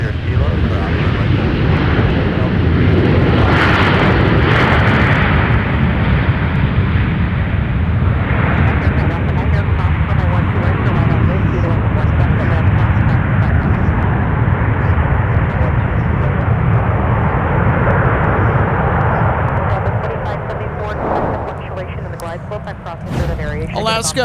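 An Alaska Airlines airliner in oneworld livery at MSP airport fills the air with a loud, steady jet engine roar that holds for most of the stretch, then eases slightly near the end, with talk and radio chatter underneath.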